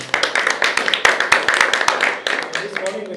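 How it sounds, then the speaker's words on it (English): A small group at a tournament gives a round of applause for a player, brisk close clapping that starts sharply and keeps going for about three seconds, with a voice speaking briefly underneath. "Round of applause for player number 1"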